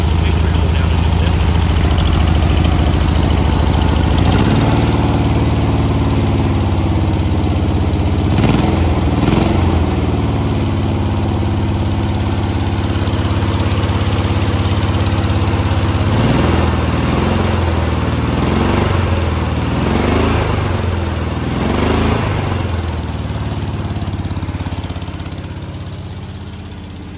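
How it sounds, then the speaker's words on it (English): A VW sandrail buggy engine idles loud and close with a steady, lumpy rumble, its out-of-adjustment valves ticking under the drone while the revs rise in several brief blips before the engine settles lower toward the end. "Valves sound like a little freaking leprechaun in there with a flipping hammer"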